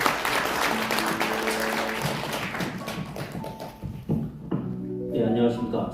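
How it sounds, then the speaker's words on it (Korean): Applause from an audience at a Korean association's general meeting, a broadband clatter of clapping that runs for about four seconds and then thins out as a speaker begins talking over the last of it. "박수로 좀 격려해 주시면 좋겠습니다"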